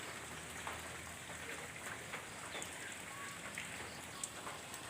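Rain falls outdoors where homing pigeons are being flown, a steady faint patter with scattered drops ticking on surfaces and no voices.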